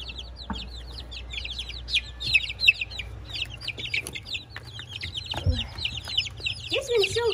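Recently hatched baby chicks peep in a busy high-pitched chorus of rapid chirps, close by, with a low hum and occasional handling noises underneath.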